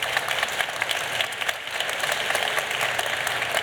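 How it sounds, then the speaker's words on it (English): Audience applauding at the close of a tech conference breakout panel on coding schools and bootcamps, a steady dense wash of clapping filling the room throughout, with no talk over it. "I want round of applause for our panel"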